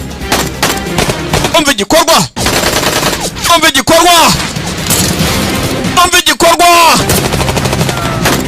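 Machine gun bursts and gunfire in a dubbed action film, rapid loud volleys repeating across the scene, with a narrator's voice dubbing over the shooting.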